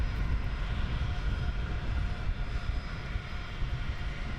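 Gulfstream jet at London Luton Airport, a faint, steady distant roar of engine noise holding even throughout with no voices.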